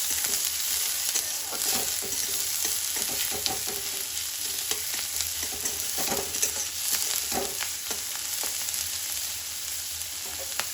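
Spices fry steadily in mustard oil in a kadai, a continuous close sizzle broken by regular scraping and tapping of a stirring spoon against the pan, with no talking.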